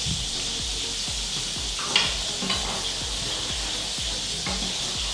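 Fish fries in butter in a pan, giving a soft, continuous crackling sizzle with faint pops, steady and fairly quiet throughout with no talking.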